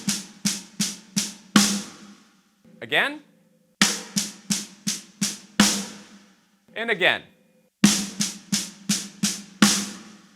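Fast six-stroke roll fill on a drum set, played as bursts of quick hits with accents, repeated three times with short pauses between; a voice speaks briefly in the gaps.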